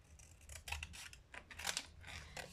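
Scissors snip through leftover material while cutting out a label, a series of quick close crisp cuts of varying strength, with no talking.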